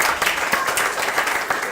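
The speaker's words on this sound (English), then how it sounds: "I think we should all give them a round of applause." Wedding guests at Eaves Hall give the bridesmaids a round of applause, a short burst of scattered clapping from a room of people, moderately loud and fairly even.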